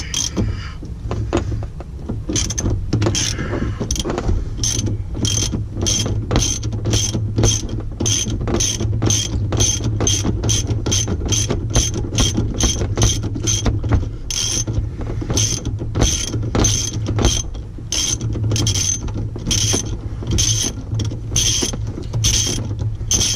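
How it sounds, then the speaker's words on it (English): A 13 mm hand ratchet loosens a bolt on the liftgate of a 2014 Ford Explorer, producing long runs of rapid, sharp clicks in quick repeated strokes, close up over a low steady hum, with no talk. "I'm using a 13 millimeter. I'm not sure if you can see that, but it's a 13 millimeter magic, and then I'm just going to start loosening it."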